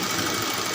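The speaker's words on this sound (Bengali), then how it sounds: "এখান দিয়ে আরেকটা সেলাই দিয়ে দেবেন শক্ত হওয়ার জন্য।" Sewing machine running steadily as it stitches a seam on a six-panel petticoat, a continuous fast mechanical whir that sounds close and fairly loud with no talking.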